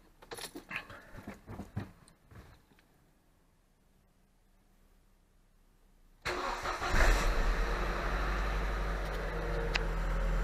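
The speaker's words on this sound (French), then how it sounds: "On va la faire chauffer et la balancer un peu dans les tours." A car engine cranks and fires up after jangling keys and handling noises, then settles into a loud, steady idle close by.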